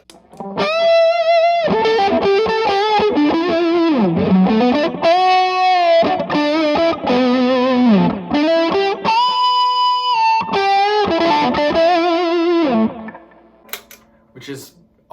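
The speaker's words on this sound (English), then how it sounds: "if I put on overdrive with the boost, this is what it would sound like" Loud overdriven electric guitar playing a lead line with bends and sustained notes, thick and saturated, fading out near the end.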